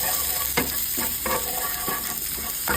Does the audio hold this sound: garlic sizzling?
yes